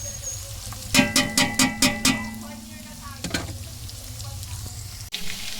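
Ginger sautéing in a pan, with a steady low sizzle under a quick run of six sharp, evenly spaced metallic scrapes of a utensil, then a couple of fainter knocks and stirs.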